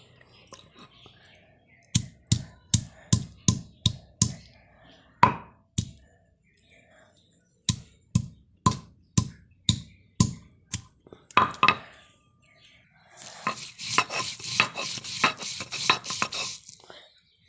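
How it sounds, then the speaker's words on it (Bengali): A flat grinding stone (pata) is worked to crush spices for meat, giving two runs of evenly spaced heavy thuds, then a busier scraping, rubbing stretch toward the end, with a voice speaking faintly in the background. "পাটাই বেটে মাংস মশলা পাড়াই বেটে মাংস রান্নলে এই মাংসর টেস্ট আলাদা।"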